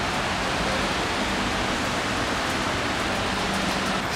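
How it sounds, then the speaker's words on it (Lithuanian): Heavy rain pours down continuously, a loud dense wash of hiss with no breaks. "Nu va, grįžau ir pradėjo pilti lietus."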